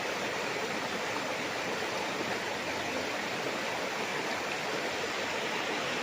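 A clear river in Liliw, Laguna flows with a steady, even rush of water, close and unbroken, with no voices over it.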